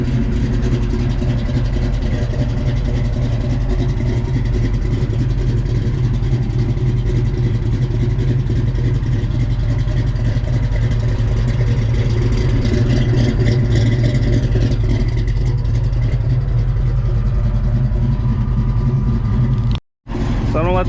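A 1987 Mustang GT with a 347 engine idles as it warms up, a steady, rowdy rumble held at close range for about twenty seconds before a sudden brief cutout near the end.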